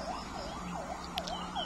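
A wailing siren sweeps up and down in steady repeated cycles, somewhat distant and moderately quiet, with a low steady hum underneath.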